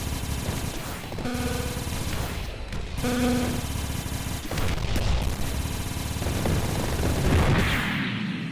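Turbo Vulcan cannon in the Sky Rogue flight game firing in loud rapid bursts over aircraft engine roar, with crashes and explosions layered through the mix.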